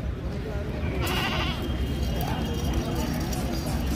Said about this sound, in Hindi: सब गाभिन बकरी है।